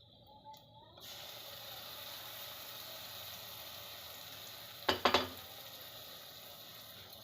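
Spice paste and duck meat fry over lowered heat with fried onions, giving a faint steady sizzle, broken midway by a short quick clatter of a utensil stirring and scraping the pan.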